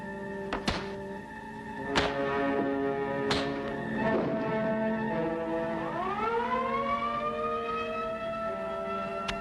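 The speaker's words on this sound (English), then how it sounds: "I heard the siren." A few sharp thuds ring out, then a siren winds up, its tone climbing and holding steady, loud and close.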